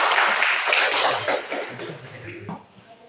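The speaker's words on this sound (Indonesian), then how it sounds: "Tepuk tangan." Children in a classroom break into brisk applause, a dense wash of many small hands clapping together that gradually thins and fades toward the end.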